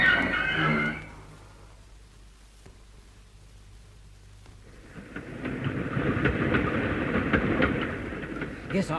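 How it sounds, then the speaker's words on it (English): A train passes as a radio drama sound effect: a low rumble swells into a broad, steady roar that keeps building and rattling toward the end, after a short opening sound. "Oh, sorry, that's my train."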